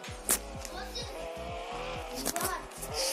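A car drives in the Roblox game Jailbreak, with repeated engine pitch sweeps as it shifts through gears and brief tire squeals, under a faint background.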